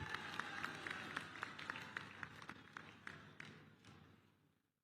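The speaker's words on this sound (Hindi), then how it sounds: "हमारे पूर्व सैनिकों के अभिनंदन में भी तालियां बजाकर एक बार स्वागत किया जाना चाहिए मेरे दोस्तों।" A crowd at an outdoor political rally applauds, sharp rhythmic claps rising over a steady murmur and fading out, fairly distant and faint.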